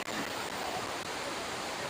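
Waterfall rushing over rocks at a little-visited forest falls, a steady broadband roar of falling water, loud and continuous throughout with no voices.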